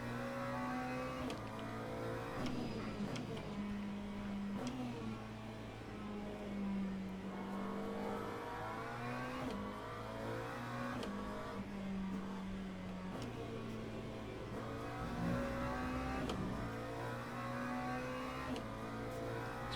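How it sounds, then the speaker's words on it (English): Hypercars in the racing game Le Mans Ultimate are held up in traffic, their engines making a steady, fairly quiet drone with shifting pitch as the cars pass and accelerate. "Just seeing hypercars getting held up behind traffic here."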